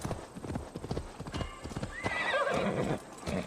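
Horse in Assassin's Creed Valhalla trotting with a quick, steady clip-clop of hooves, then letting out a clear, close whinny over the hoofbeats.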